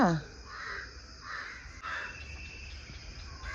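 Crows caw in a series of three harsh calls at dawn, moderately distant, over a steady bed of insect chirring and low outdoor ambience, with a brief bird chirp at the start.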